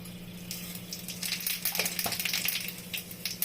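Whole cumin seeds crackling in hot oil for a tempering of bay leaf, dried chillies and whole spices in a Bengali pointed gourd yogurt curry, a soft steady sizzle rising into a brisker fry with faint hiss, no talk.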